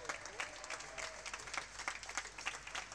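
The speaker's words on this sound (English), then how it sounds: "Good applause from the crowd." Steady applause from a sizable crowd after a boys' basketball semifinal, dense clapping sustained throughout at a moderate distance, with no pause.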